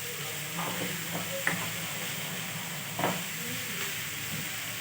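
Onion frying in a pan for a paneer curry, a steady sizzle with occasional stirring scrapes and soft clicks of a spoon against the pan.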